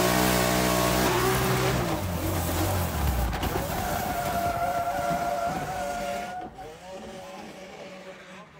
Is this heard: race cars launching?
yes